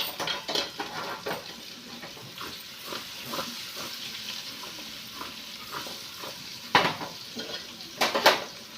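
Carrots fry in a pan while being stirred by hand, a low sizzle under repeated scraping strokes with a few sharp metallic clinks of the pan near the end.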